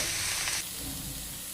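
Poppy seed paste sizzles in coconut oil as it is stirred, a bright frying hiss that is louder at first and then settles into a steady, softer crackle near the pan.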